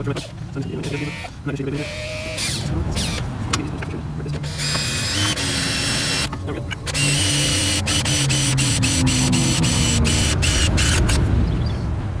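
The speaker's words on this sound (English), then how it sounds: "I'm just going to drill them out right here" A power drill bores holes while building a grass bagger, with bursts of whirring drilling mid-clip and a longer steady stretch toward the end, heard under a person talking.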